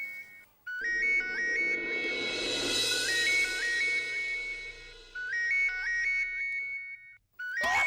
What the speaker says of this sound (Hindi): ये रिंग कहाँ बज रही है?